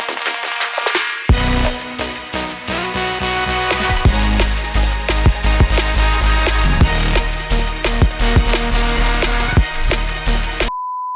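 A driving drum and bass drop kicks in after a brief quiet intro, with punchy drums, heavy bass and added sustained string layers, loud and dense.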